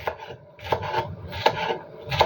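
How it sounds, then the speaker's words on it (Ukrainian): Knife slicing bell pepper into thin strips on a board for a bean salad, heard as a few separate rasping cuts spaced about three-quarters of a second apart, close and moderately loud with no talk. "Ось такою соломочкою можна різати перчик, а можна різати ось такою соломочкою перчик."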